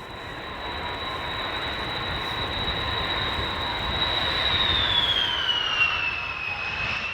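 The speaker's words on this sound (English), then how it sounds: "plane comes out of the sky and onto the runway at 12:43" A Belavia jet airliner arriving from Minsk and landing on the runway, its engines producing a steady roar with a high whine that slowly glides downward, heard from a distance and growing slightly louder.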